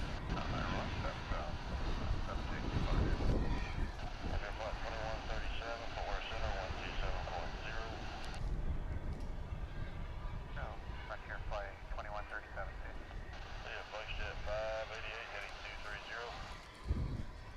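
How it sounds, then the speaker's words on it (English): An American Airlines Boeing 787 Dreamliner taxies toward the hangar at DFW International Airport, its engines giving a steady broadband rumble and whine that holds throughout, with a spoken commentary voice running over it. "Here comes an American Dreamliner."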